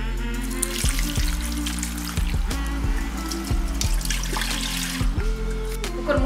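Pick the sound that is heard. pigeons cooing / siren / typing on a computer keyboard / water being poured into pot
water being poured into pot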